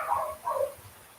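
Dogs in a front yard let out two short barks, muffled and somewhat distant, with a brief gap between them.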